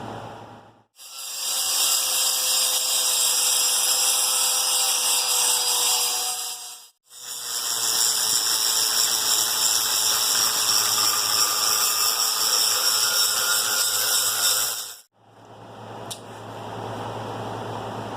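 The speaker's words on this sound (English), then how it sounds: "We'll clean these up real well, up on the grinder." A bench grinder grinds ladder-pattern damascus steel billets flat, in three long, loud, steady passes with brief pauses between them. The harsh hiss and whine is close and carries no talk.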